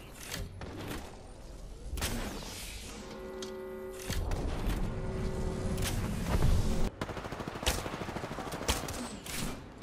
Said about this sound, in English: I'm getting fucking sniped from every fucking angle known to man